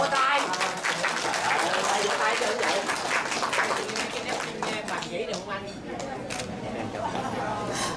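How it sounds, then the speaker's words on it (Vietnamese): Audience applause at a Vietnamese community year-end party in Houston, steady clapping and chatter filling the room throughout with a voice talking over it. "Vỗ tay."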